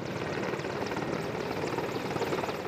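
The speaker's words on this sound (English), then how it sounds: "a Merlin Mark IV helicopter similar to this one crashed during that training" Royal Navy Merlin Mark IV helicopter, a steady, loud rotor thrum with a continuous engine whine, holding even throughout with no talk over it.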